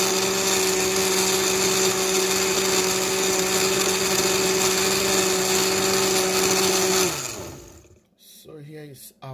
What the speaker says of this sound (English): we're going to blend our ginger before we start adding pineapples into the blender.